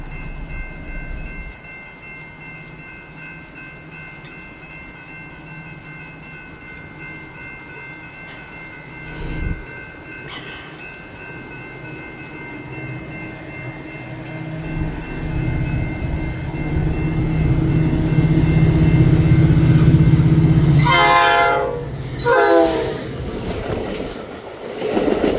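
A BNSF train approaches Hinsdale station, its low rumble building steadily and growing loud, then a long, wavering horn blast sounds near the end.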